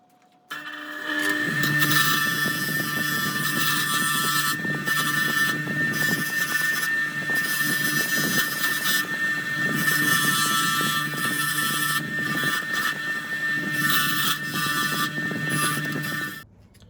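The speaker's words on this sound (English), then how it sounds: "so I'm finished with that brush wheel" A powered brush wheel polishes rust off a vintage Kawasaki tool kit, giving a steady loud motor whine with a gritty scraping texture, running continuously at close range for about sixteen seconds before it stops.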